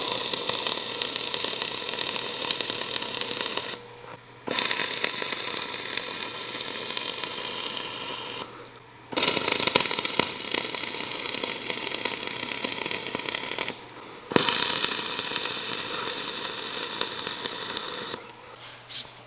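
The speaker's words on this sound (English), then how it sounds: "Now I'll weld the other sides." Steel plate rack sides are welded in four long bursts of loud, crackling, sizzling arc separated by short pauses, close up with no talking.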